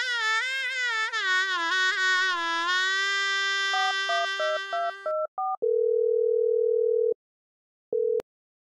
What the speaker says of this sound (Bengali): দাদা একটু ফোন কর না, লেট হয়ে যাচ্ছে।